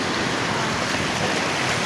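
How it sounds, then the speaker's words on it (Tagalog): Strong ocean waves at Baluti beach, a dense continuous roar of surf close by, steady and loud throughout the short stretch. "Ayan, malakas yung alon mga kaploe."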